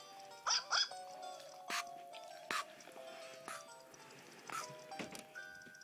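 A dog gives several short, sharp yips and barks with pauses between them, heard fairly close over a quiet background during an outdoor walk.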